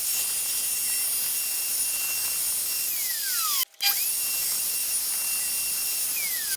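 A router mounted on a WoodRat jig whines steadily at high pitch while cutting box joint sockets in wood, its tone shifting as the bit moves, with a brief cut-out and restart midway.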